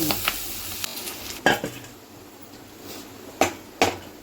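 Curry leaves sizzling in hot frying oil for a fish curry, a steady soft crackle with a few sharper pops and spoon stirs near the pan, no talking.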